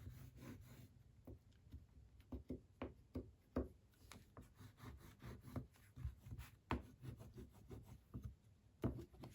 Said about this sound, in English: my bone folder just to do the edges